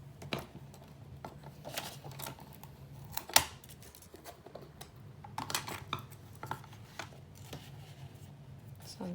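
Scissors cut gift wrap paper in a few short, crisp snips, mixed with soft rustling and handling of the paper at close range, and someone speaks quietly in between.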